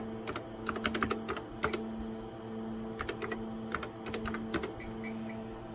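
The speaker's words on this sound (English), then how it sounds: "Actually, we'll just type in the actual date." Keys tapped on a retro TRS-DOS computer keyboard in short clustered bursts with pauses between, quiet and close, over a steady electrical hum.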